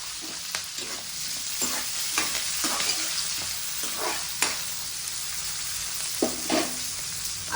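Fenugreek leaves and sliced onions fry in a pan while a spatula stirs them, giving a steady close sizzle broken by scraping strokes every second or so.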